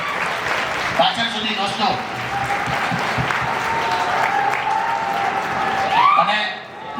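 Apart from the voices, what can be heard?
audience applause for teachers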